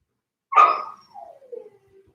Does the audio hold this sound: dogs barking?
yes